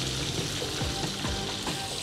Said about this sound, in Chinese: 再另外嗰邊個鴨胸可以煎多一陣，大概煎佢30秒至1分鐘到就夠噶啦